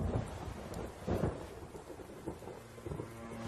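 A heavy rainstorm falls steadily while low rolling thunder swells and rumbles through it. There are no voices, only the dense wash of rain.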